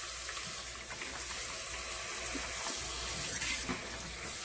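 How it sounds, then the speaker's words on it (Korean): Sliced cabbage is rinsed under a running kitchen tap, and the water gives an even, continuous splashing rush at moderate distance. No voices are heard. "흐르는 물로 세척해주세요."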